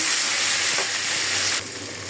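Ground spice paste of cumin, onion and garlic hitting hot oil with browned onions for a banana curry, a loud dense hiss that softens slightly after a soft clunk partway through, close and with no talk.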